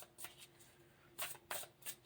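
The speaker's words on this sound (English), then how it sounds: "They shuffle pretty well like that, like what I'm doing right now." A deck of stiff tarot cards being shuffled, quiet close riffling bursts in a quick irregular rhythm, a few separate flutters over about two seconds.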